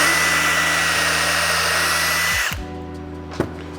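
A power drill whines steadily at high speed drilling a pocket hole in a clamped piece, then winds down and stops, followed by a brief click.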